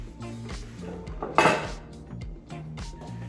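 A cake board set down onto a metal cake pan makes one brief knock and clatter against the pan, close and fairly crisp, amid soft kitchen handling noises.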